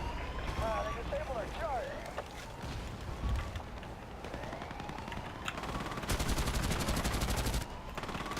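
Gunfire in Battlefield Play4Free, with scattered shots and a sustained rapid burst near the end amid continuous battlefield noise; a player talks over it.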